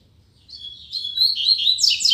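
A small coleiro songbird sings a rapid, high twittering phrase that grows louder and busier, close by, over a faint low hum.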